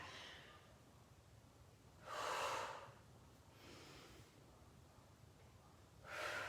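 Slow breaths during a stretching exercise, with three separate airy inhales and exhales spaced a few seconds apart over quiet background, close and clear.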